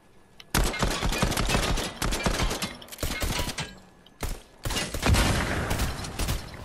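Sustained bursts of rapid gunfire aimed at the player in a Deadpool video game, loud and dense with brief pauses between volleys, with no talking.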